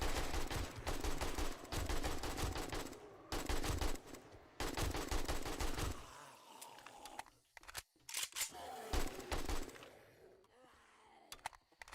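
Long bursts of AK rifle fire ring out in the video game 7 Days to Die, rapid automatic volleys broken by short pauses, then scattered single shots and quieter stretches.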